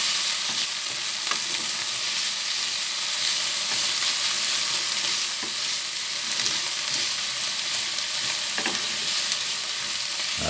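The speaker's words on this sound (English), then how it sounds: "And give it a good stir." Prawn curry with fresh tomatoes frying in a pan as it is stirred, a steady close sizzle running throughout with soft scraping of the spoon, no voices.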